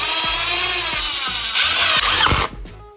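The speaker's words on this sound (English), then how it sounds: "I'm gonna drill it in. I do 2-3 screws per side" A power drill drives screws into a wooden address sign under repair, its motor whirring loud and close for about two and a half seconds with ratcheting pulses before winding down.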